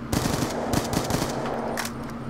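MSMC submachine gun firing in a Black Ops 2 Search and Destroy match: a rapid burst of shots crackles loudly, then trails off into a fading echo.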